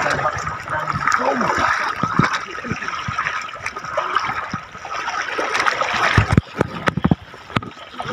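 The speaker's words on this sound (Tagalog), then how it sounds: "Pinasok na ng tubig." Water rushes and gurgles steadily into a sinking bamboo raft, a dense continuous wash with splashy knocks and bumps toward the end.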